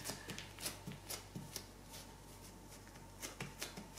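Cloth adhesive tape is patted repeatedly against fabric to lift powder residue after an iron-on print on a handmade dog garment, giving quiet, soft, close rhythmic taps and light sticky rustles in a steady irregular series.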